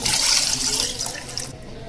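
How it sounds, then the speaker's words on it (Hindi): Water pours into a pot of gram-flour kadhi as it cooks, a loud, steady splashing stream that eases into a quieter trickle near the end, with no talking. "तो इसमें अभी और पानी डालेंगे।"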